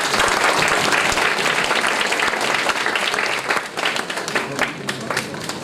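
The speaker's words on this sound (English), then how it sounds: "So can we have a round of applause for him" A crowd at a discussion event applauds steadily, dense and loud clapping filling the room for several seconds before thinning slightly toward the end.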